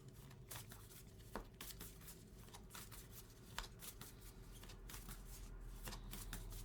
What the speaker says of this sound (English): the way it's shuffling and the way the cards are falling out